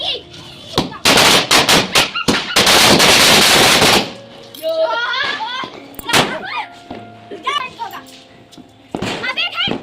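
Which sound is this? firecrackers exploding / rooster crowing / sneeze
firecrackers exploding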